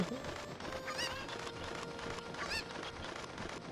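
Chickens from Zelda: Ocarina of Time squawk and honk in a few short bursts, set against a busy game background of music and effects.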